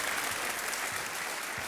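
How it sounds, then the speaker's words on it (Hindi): Applause from a studio audience on a televised quiz show, a steady dense wash of clapping held at an even level throughout, with no voices. "बहुत बहुत बधाई आपको, तालियां"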